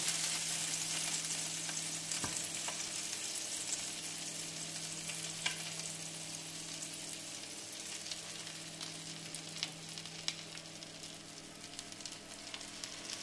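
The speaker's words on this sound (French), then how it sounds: "Et on fait cuire les côtelettes. Alors, pas trop chaud de la poêle." Parmesan-breaded lamb chops cooking in a moderately hot frying pan, a soft, even sizzle with a low steady hum underneath and occasional faint pops and crackles.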